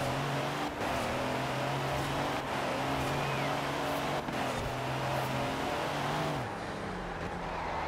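A truck engine in Forza Horizon 4 drones steadily under braking, its pitch falling in slow steps as it slows, with faint intermittent clicks.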